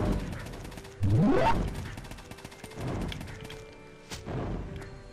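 Several heavy booming impacts land in quick succession, each with a rising whoosh before it, loud and close, like cannon fire striking nearby in the game Iris Online.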